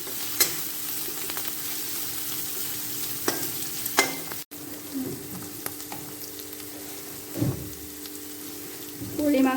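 Ground cumin and coriander powder frying in oil in a pan, a steady close hiss with occasional stirring knocks and scrapes over the sizzle.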